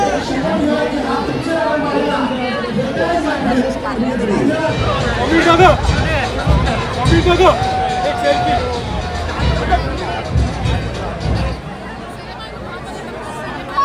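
Crowd chatter along a festival procession in Maharashtra with people in costume, a constant babble of many voices nearby, with one voice standing out at times over the general hubbub.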